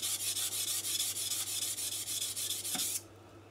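A knife blade is rubbed in quick, regular back-and-forth strokes on a King G-45 220-grit whetstone, a close, bright rasping that stops abruptly near the end.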